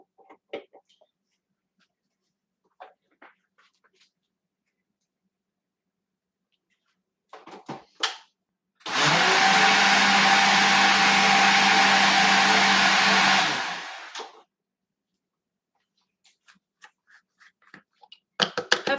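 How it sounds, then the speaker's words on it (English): A blender runs for about five seconds, whirring loudly and steadily while it blends a plant-based avocado crema. Quiet clatter and handling sounds come before and after it. "Hopefully that blender noise wasn't too loud."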